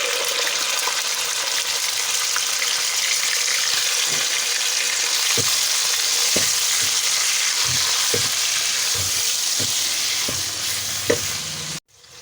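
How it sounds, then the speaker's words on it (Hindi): Boneless chicken fries in garlic ginger paste with a steady, loud sizzle, broken by scattered clinks and scrapes of stirring, before cutting off at the end. "चिकन को हम अच्छी तरह लहसुन अदरक के पेस्ट के साथ फ्राई कर लेंगे जब तक चिकन का कलर चेंज नहीं हो जाता।"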